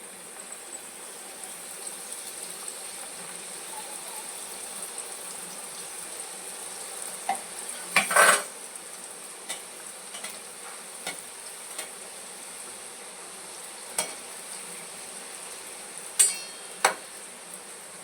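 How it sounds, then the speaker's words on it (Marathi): Coconut karanji frying in hot oil, a steady soft sizzle running throughout with occasional clinks and stirring knocks of a utensil against the pan. "आता आपलं तेल चांगलं तापलंय आपण आता तळून घेऊयात"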